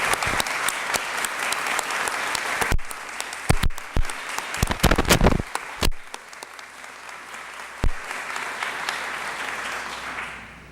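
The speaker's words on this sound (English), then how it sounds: "give everybody another round of applause" A hall of fame induction ceremony audience at Topeka High School claps loudly and steadily, swelling in bursts and then tapering toward the end, with no talking over it.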